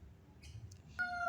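A cat gives a short, clear meow near the end of a quiet moment, with a faint high chirp just before it.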